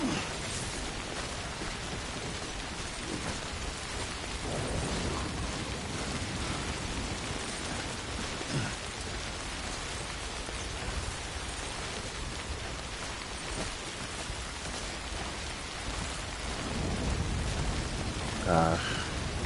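Timefall rain falls in the video game Death Stranding, a steady dense hiss of downpour that continues unbroken throughout with slight swells.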